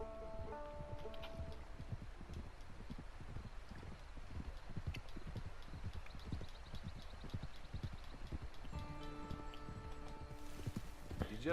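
Horse hooves clip-clop in a quick, steady rhythm in the video game Red Dead Redemption 2 Online, over faint wind and a soft tonal background.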